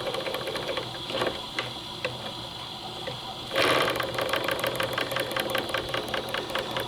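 Live steam engine on a model steamboat, San Julian 2, with Stephenson valve gear, running with a fast rhythmic mechanical chuffing that picks up in pace and loudness partway through as it accelerates.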